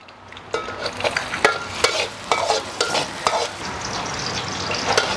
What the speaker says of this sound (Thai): ใส่น้ำมันลงไป พอร้อน กระเทียมลงค่ะ ลงเจียวให้หอมก่อนนะคะ